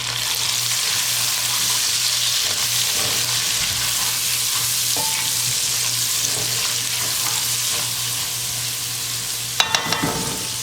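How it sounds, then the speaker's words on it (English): Green pepper sizzling steadily in a hot pan for Dominican arroz consomé with longaniza, a continuous frying hiss with a low hum beneath and a few brief clinks near the end, no talking. "what I'm going to start off doing is adding my green pepper"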